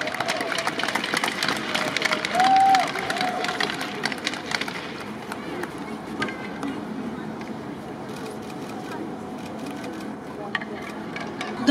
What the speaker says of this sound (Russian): Аплодисменты Антону!